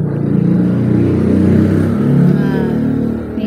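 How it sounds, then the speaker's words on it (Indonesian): A motorcycle engine drones close by on a road next to a kitchen and swells briefly as it passes, a steady low rumble with no talking. "dapurnya deket jalan ya jadi ada motor lewat kedengeran deh"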